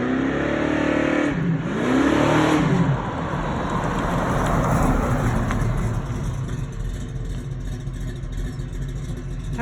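A 1938 Dodge hot rod accelerates hard, its engine revving up and down in loud, close surges, then holding a heavy, rumbling roar as it pulls away.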